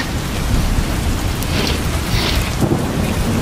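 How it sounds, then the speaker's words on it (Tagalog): Rain and strong wind batter a Haven XL hammock tent in a foggy forest, a dense continuous loud roar of drops on fabric with gusting swells. "Narinig nyo ba yung lakas ng lakas ng hangin tsaka yung"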